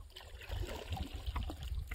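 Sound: small sardines splashing in river water

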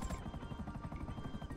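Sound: helicopter in the video game GTA V Online

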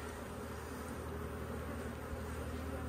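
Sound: honey bees flying around shaken out of a hive box

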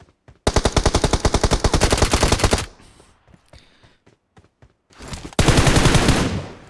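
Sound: M4 rifle gunfire in a video game (PUBG)

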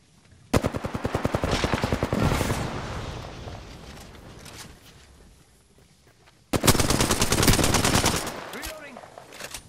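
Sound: enemy gunfire in Apex Legends video game

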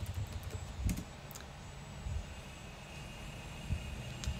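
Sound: typing on a computer keyboard

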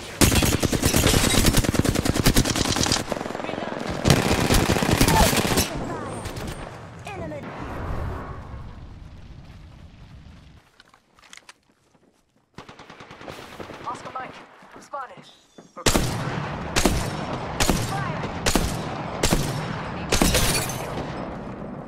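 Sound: gunfire in the video game Apex Legends

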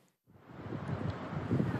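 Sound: wind on a cold windy day in a schoolyard

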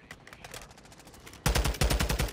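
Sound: gunfire from a video game (DMZ)

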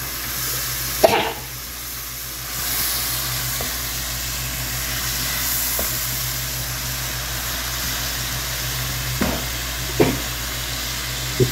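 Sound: ingredients frying in a pan for shakshuka

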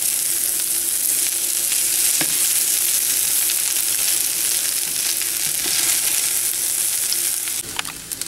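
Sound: stirring food in a pot for a one pot rice dinner

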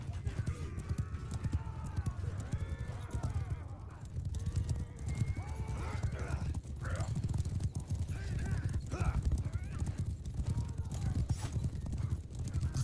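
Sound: horses galloping and neighing in Mount & Blade 2: Bannerlord video game

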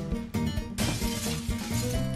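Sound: glass shattering in Happy Wheels video game

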